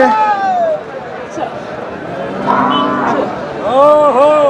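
Cattle at a busy Bangladeshi cattle market before Eid sacrifice moo loudly and nearby, several drawn-out calls overlapping with people talking and crowd babble.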